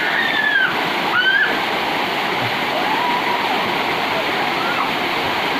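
A waterfall deep in the Tambunan forest pours with a constant broad hiss of rushing water, while voices call out briefly over the steady roar near the start.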